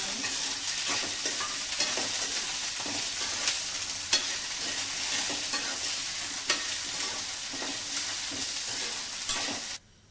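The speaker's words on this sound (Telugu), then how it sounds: "ఇప్పుడు ఇందులోకి పచ్చిమిర్చిని కూడా వేసేసుకుందాం." Green chillies fry in oil in a pan for chutney, giving a continuous close crackling sizzle with scattered spoon stirs and light clinks, no talk, cutting off abruptly at the end.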